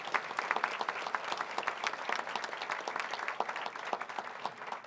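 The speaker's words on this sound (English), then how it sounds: "So let's give the staff a great round of applause and show their appreciation to it." A convention audience applauds its event staff in a hall, with dense, sustained clapping from many hands that holds steady and fairly loud for several seconds before thinning slightly at the end.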